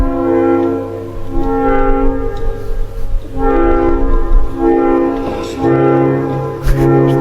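An economy-class passenger train rumbles along as its horn sounds in long, sustained tones that shift pitch partway through, loud and close.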